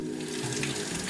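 Water runs through a Gaggia Brera espresso machine and its steam wand to rinse the lines, a loud continuous splashing hiss with a pump drone underneath.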